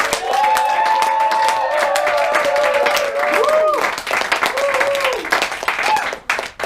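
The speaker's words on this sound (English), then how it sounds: "when they stand forwards, you give them a big old clap" An audience at a clown performance event claps and cheers loudly for performers stepping forward, steady dense applause with whoops and sung-out voices over it, fading toward the end.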